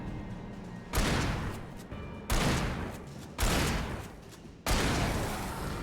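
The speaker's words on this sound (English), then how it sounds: "the shotgun isn't really effective against these guys" Four loud, booming shotgun blasts in the video game Alan Wake, spaced about a second apart, each ringing out with a long decaying tail, no voices over them.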